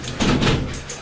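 Police battering ram striking a door during a drug raid in Denizli, Turkey, a loud heavy impact with rattling follow-through standing out over a noisy background.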